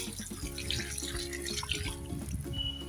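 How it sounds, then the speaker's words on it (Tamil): Water poured steadily into a lotus tuber planting pot, a soft continuous trickle and splash at close range with no talk. "கீழே உள்ள உரம் மிக்ஸ் ஆகாத அளவுக்கு நம்ம தண்ணி இதெல்லாம் ஊற்றணும்."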